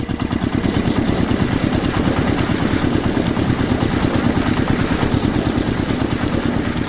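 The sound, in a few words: giant factory machines running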